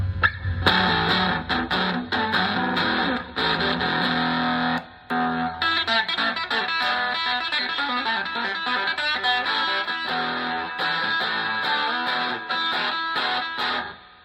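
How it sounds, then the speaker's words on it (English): A DiPinto Galaxie electric guitar with a built-in Smokey amp and distortion box plays a gritty, buzzing riff with rapid strummed chords and a couple of brief stops, loud and close, with no voices. "So there you go, built-in distortion box."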